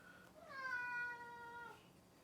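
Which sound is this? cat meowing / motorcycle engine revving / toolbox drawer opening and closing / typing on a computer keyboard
cat meowing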